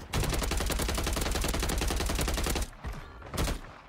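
Rapid, dense automatic gunfire from a Call of Duty match on Rebirth Island, loud and near, rattles steadily for over two seconds before breaking into a few separate, quieter shots.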